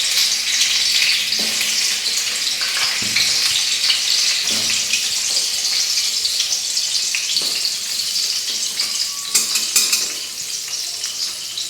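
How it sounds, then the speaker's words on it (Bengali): Sliced pointed gourd (potol) fries in a pan with a loud, continuous sizzle and crackle. Occasional stirring scrapes and knocks break in, and the sizzle eases slightly toward the end, with no one speaking. "আর এই পটল ভাজাটা কেটে নিয়েছি, পটলটা ভাজবো।"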